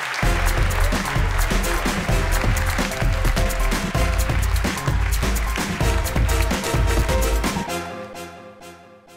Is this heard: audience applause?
yes